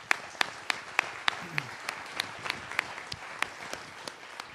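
Clapping at a cities mission conference on climate investment, thin and sparse, with sharp individual claps landing in a quick, even rhythm at a fairly low level.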